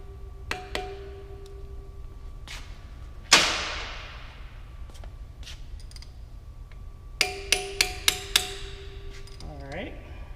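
Metal-on-metal hammer strikes knocking over the tab of a lock nut on a DX dynamometer during seal and bearing maintenance: scattered sharp taps, one louder ringing blow with a decaying tail, then a quick run of five taps, close by.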